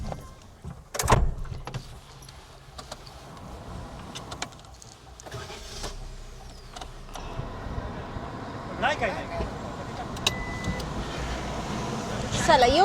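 A car is moved a short distance: a door thuds shut, then a low engine rumble and mechanical clunks follow, close by, with people talking throughout.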